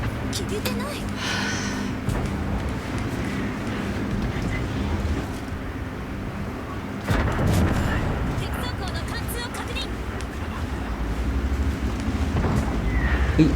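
A Tiger II tank's cannon booms in World of Tanks, one deep blast landing midway over a constant rumble of engine and battle noise, while a player talks throughout.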